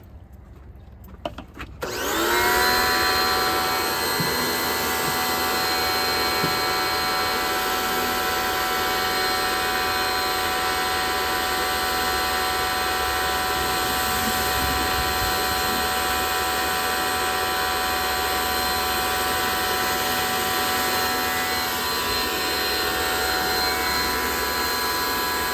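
Low-pressure washer, around 1500–1600 psi, spraying a car during detailing: a steady, loud hissing spray that starts abruptly after a brief pause and runs on continuously without break.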